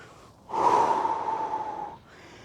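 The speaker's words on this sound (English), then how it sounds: "Steady breathing." One long, steady, audible breath drawn during a gentle low-impact exercise routine, close and clear against a quiet background, lasting about a second and a half.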